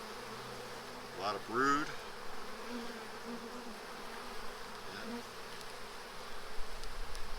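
Honeybees buzzing in a steady low hum close by at an open hive during a hive split, with someone briefly speaking over the drone partway through.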